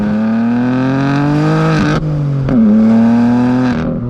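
A modern BMW M3 engine hums steadily while driving with the exhaust valves closed, a smooth tonal drone that shifts pitch briefly around two shifts before settling again, heard alone at close range.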